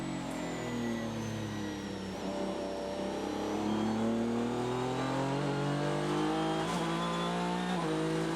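A race car at the Rolex 24 at Daytona in 2015, its engine droning loud and steady while the pitch climbs and drops with gear shifts through a six-speed gearbox, heard alone and fairly close throughout.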